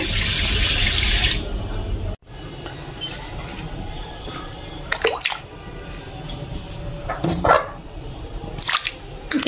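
Tap water runs loudly into a sink for a couple of seconds, then vegetables are rinsed and handled with splashes, drips and squishy washing sounds at close range.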